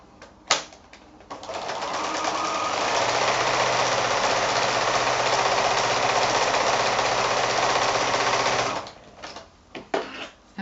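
A sewing machine quilts an applique block in one continuous, loud, rapid-stitching run of about seven seconds, starting after a brief click and stopping abruptly, followed by a few light handling taps.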